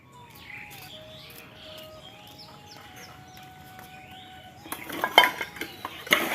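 Household dishes and metal pots clatter and clank in a series of sharp knocks as they are taken out and handled, following a quiet stretch where chickens cluck in the background.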